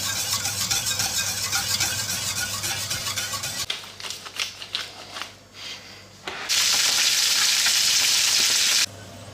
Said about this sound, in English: So I'm just going to add my butter now. Whisk away till the butter melts in.